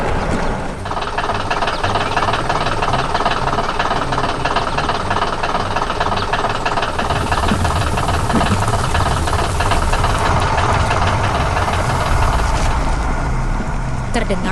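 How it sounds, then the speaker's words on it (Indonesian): A yellow digging machine's engine labouring hard, a loud, continuous mechanical clatter with ratcheting, knocking texture that holds steady throughout. "Terdengar suara mesin yang bekerja keras"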